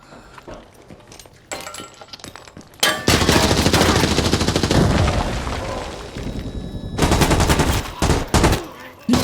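Gunfire from players shooting in Arena Breakout: Infinite, scattered shots at first, then a loud sustained automatic burst mixed with booms and impacts, more heavy fire near the end.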